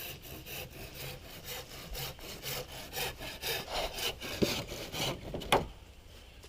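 A hand saw cuts down wooden poles while a woven hut is being built outdoors, its steady back-and-forth strokes rasping close and loud through the wood with no talking.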